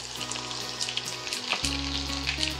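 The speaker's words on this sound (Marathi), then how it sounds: "लसूण हलकासा परतून घेऊया" Chopped garlic sautéing in hot oil with mustard seeds and cumin for zunka, a steady close sizzle and frying crackle with soft stirring, no voices.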